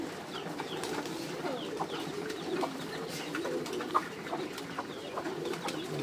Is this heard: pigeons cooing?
yes